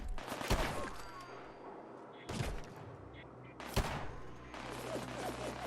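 Several loud, sharp gunshots ring out in a first-person shooter game, spaced a second or more apart, with a faint game background running between them.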